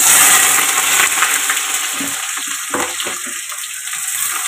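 Chopped onion goes into a hot pan with whole cumin seeds and bursts into a loud, hissing sizzle that gradually settles into a quieter, steady frying sound.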